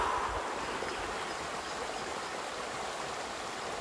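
River water flows steadily during an evening swim, a continuous close rush and babble with no voices.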